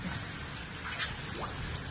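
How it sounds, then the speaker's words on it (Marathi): Heavy rain pouring down, a dense, steady hiss of falling water filling the whole moment, with no voices. "मस्त पाऊस लागलाय पडायला बघा"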